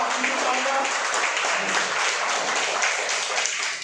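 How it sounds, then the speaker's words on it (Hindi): Hall audience at a product presentation in a hotel breaks into steady, dense applause that fills the room for several seconds without a break. "इसका लिए जोरदार तालियां हो जाए."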